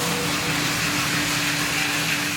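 A large coffee roaster drum runs steadily, giving a continuous close-up mechanical whir and hum, with no pauses and no voices.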